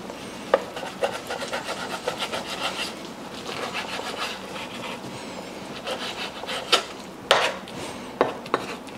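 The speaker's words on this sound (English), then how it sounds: "Start slicing in half, right across the middle." Knife cutting through Korean beef tapa on a wooden board, a series of soft rubbing, rasping strokes with a few sharper taps, close and fairly quiet with no talk.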